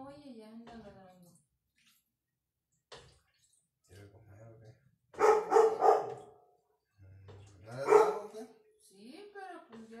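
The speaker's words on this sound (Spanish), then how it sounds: "Escucha nada más una olla y ya anda ladrando." A dog in a home kitchen barks a few times, set off by the clatter of a cooking pot. The sharp barks come in bursts between stretches of near silence, with people talking in Spanish around them.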